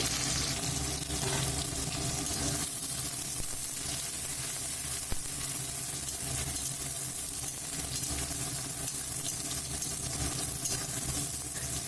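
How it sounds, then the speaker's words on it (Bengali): Chopped onions and green chillies sizzle in a wok, a steady close hiss of frying with occasional stirring scrapes throughout. "কুচনো পেঁয়াজগুলো এখন কড়াইতে দিয়ে দেব। এরপর কিছুক্ষণ ভালো করে ভেজে নেব।"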